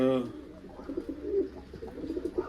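Soft, repeated cooing from a large white pigeon with low throaty phrases, close by, alongside a brief voice at the start.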